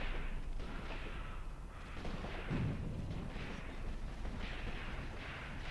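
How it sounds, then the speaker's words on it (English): Mortar fire in the war game Graviteam Tactics: distant, muffled booms and rumbling blasts roll on continuously at low volume, with no voices. "My mortars have also shot at where that machine gun was firing from."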